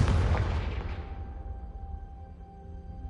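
A Confringo spell explodes in the game Hogwarts Legacy with one heavy boom that rolls and fades over a few seconds.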